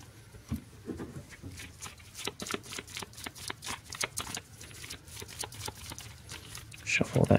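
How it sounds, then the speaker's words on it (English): A deck of playing cards being shuffled during a Legendary Marvel deck-building card game, giving quiet, close riffling and slapping bursts with a few louder flurries, while a person talks alongside. "shuffle that discard pile up."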